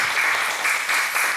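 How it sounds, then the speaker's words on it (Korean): A congregation at a Sunday morning church service gives a brief burst of thick, even applause, many hands clapping together with no voices over it. "다시 한번 감사의 강의 박수 드립시다."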